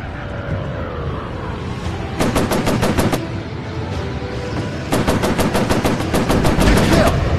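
Machine gun fire from a fighter plane in the VR air combat game Warplanes: Battles over Pacific, two sharp rapid bursts of evenly spaced shots over a steady engine drone.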